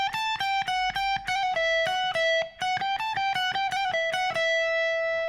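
Electric guitar playing a quick hammer-on and pull-off phrase from a solo, crisp repeated notes in a steady rhythm, clean and close, with no voices.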